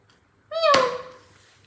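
A single cat meow, clear and close, rises sharply then slides down in pitch and fades over about half a second against near silence.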